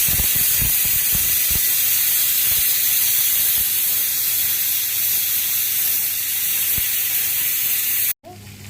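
Tiger prawns frying in a pan in a home kitchen, a steady loud sizzling hiss throughout with a few soft clicks, then a brief cut near the end.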